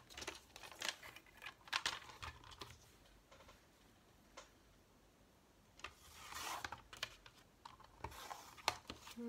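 Small mini paper trimmer slicing a sheet of paper during scrapbooking, heard as faint close rasping, rubbing strokes in a few short bursts with quiet clicks between them, no talking.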